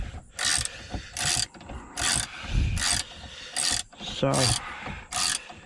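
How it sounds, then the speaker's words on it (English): Ratchet clicks in rapid bursts while a bolt is tightened into a Hummer H2 gearshift assembly, with about eight short metallic spells separated by brief pauses, close and fairly loud. "get this bolted in. Make sure it's screwed in the right holes."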